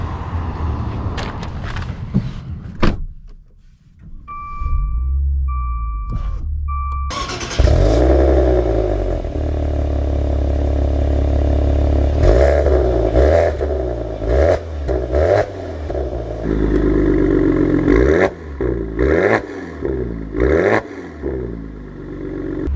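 A Maserati Ghibli GranLusso starts with a few clunks and short chime tones. Its engine then fires and revs up strongly, pulling through repeated rising gear changes, loud and close, with no talking.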